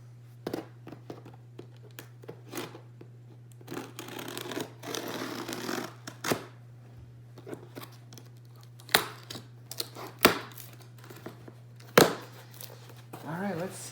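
Laptop box packaging for an HP Pavilion x360 14-inch 2-in-1 being cut open: close, intermittent scratchy tearing and slicing bursts with crinkling in between, a steady low hum underneath and a few sharper snaps near the end.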